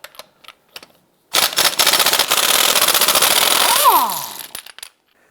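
Lug nuts on a 2011-2019 Ford Fiesta front wheel being spun off with a locking tool: a loud, continuous rattling impact-gun burst of about three seconds, set between a few short isolated clicks and taps.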